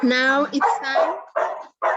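A dog gives high, yelping barks in short bursts, mixed in with a person talking nearby.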